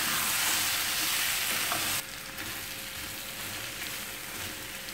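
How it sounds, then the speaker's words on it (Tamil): Potatoes and tomatoes being sautéed in a pan for potato kurma, giving a steady close sizzle with light stirring that drops to a quieter fry halfway through, no talking. "இந்த மாதிரி 1 நிமிஷம் வதக்கி விடலாம்."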